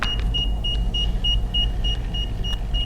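A PROCER 3 portable book scanner scanning, emitting a regular series of short high beeps over a low rumbling background, repeated about every third of a second.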